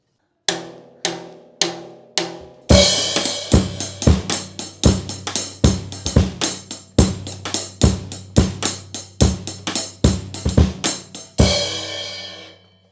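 A drum kit plays the steady rock beat of a song, with kick, snare and cymbals and two bass drum hits per beat, after a few isolated opening hits, then rings out at the end.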